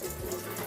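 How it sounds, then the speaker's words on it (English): Cold tap water streams steadily over baked beans being rinsed for falafel, a brief continuous splashing wash close by with no voices. "So now I'm just going to wash the baked beans under tap water."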